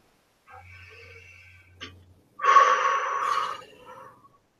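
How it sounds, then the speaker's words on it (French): A person takes a deep breath during a relaxation session: a soft, quiet inhale, then a fuller, louder breath lasting a couple of seconds that trails off. "Et de prendre une ou deux profondes respirations."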